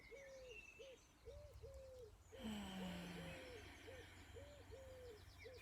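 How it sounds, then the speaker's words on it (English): An owl hoots repeatedly in a soft, regular outdoor series, faint and distant over a low ambient background, with one brief louder rustle partway through. "There's an owl."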